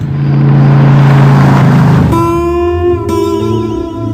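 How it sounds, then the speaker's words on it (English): A Ford Mustang V8 muscle car roars loudly during a car chase, engine revving hard with a rising, throbbing growl, then a higher steady whine as it accelerates close by, with no talking. "the director heard the noise that these engines make and thought, that'll do"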